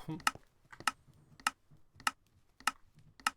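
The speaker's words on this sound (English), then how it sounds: "that clicking noise is not my droppers here. At least I don't think it is. It is the dropper at the top." A redstone dropper at the top of an item elevator in Minecraft clicks in a regular rhythm, six sharp ticks spaced about half a second apart, close and clear with faint quieter sounds between them.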